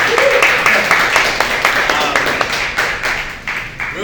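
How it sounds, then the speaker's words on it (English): An audience at a panel event held at a gym applauds, with loud, dense clapping that stays steady, then thins toward the end, while voices carry underneath. "So yeah, we can clap it up."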